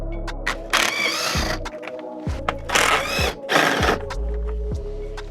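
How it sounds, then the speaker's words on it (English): Bolts being removed from a Land Rover Freelander 2 while repairing a boost pipe fault: several short bursts of a power tool whirring, with ratcheting clicks and metallic knocks between them, close and fairly loud, no talk. "Two more bolts to take out, one here and then another one just here."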